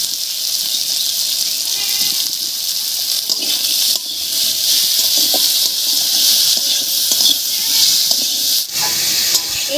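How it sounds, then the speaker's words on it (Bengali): Diced potatoes tossed into a hot spice tempering for a Bengali tangra fish curry, giving a steady bright sizzle throughout with faint clinks of stirring. "ফোড়নের উপরে আলুটা দিয়ে একটু নাড়িয়ে নিচ্ছি।"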